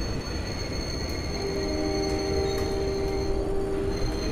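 A Mumbai local train, a Churchgate–Goregaon slow service, runs on steadily as it pulls into Dadar station. Rail noise rumbles continuously, and a long, thin wheel squeal rises in the middle.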